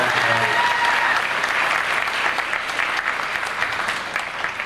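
An audience applauds a female singer at a spring 2006 show with sustained, full clapping from the start, loud and dense, easing slightly toward the end over almost five seconds. A faint tone lingers briefly at the opening.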